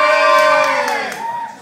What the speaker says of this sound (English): Wales, give us a cheer!